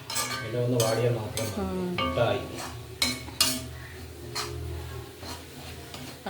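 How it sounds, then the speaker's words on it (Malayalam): A vegetable stir-fry is stirred in a pan over a low gas flame: quiet spatula scrapes and metallic clinks against the pan over a faint sizzle. "ഗ്യാസ് സ്ലോവിൽ വെച്ചിട്ട് നന്നായിട്ട് ഇളക്കണം"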